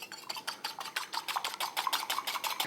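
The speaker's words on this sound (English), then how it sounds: "So we're gonna use our whisk." A whisk beats eggs in a bowl in quick, steady side-to-side strokes, giving a close, rhythmic series of bright metallic ticks and swishes, about six per second, with no voice.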